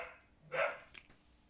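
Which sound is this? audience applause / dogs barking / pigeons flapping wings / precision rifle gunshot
dogs barking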